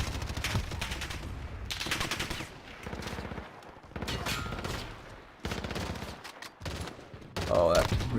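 Call of Duty Warzone automatic gunfire in repeated loud, close machine-gun bursts, each lasting about a second with short gaps between, rapid rhythmic cracks throughout.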